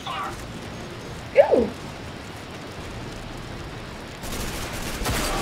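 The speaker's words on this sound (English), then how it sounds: "Hey, they're shooting at me." Gunfire in the shooter game RAGE: one short burst of shots at mid distance, then quiet game ambience and a faint rain-like hiss.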